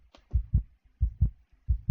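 Heartbeat sound effect from the game Doki Doki Literature Club: three evenly spaced double thumps, deep and close, each lub-dub pair distinct and loud with silence between.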